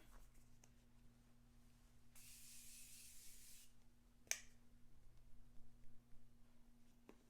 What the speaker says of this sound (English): one last spray of setting spray